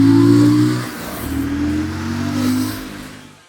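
An Aprilia RS 457 motorcycle accelerates hard on the throttle, a loud, close engine drone climbing in pitch through a gear change before fading out.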